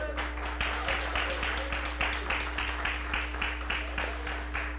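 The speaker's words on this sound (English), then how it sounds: "Clap your hands for the Lord on this morning." A church congregation claps in a steady rhythmic beat at a live-streamed service, about two claps per second over a constant low hum, moderately loud and with no voices standing out.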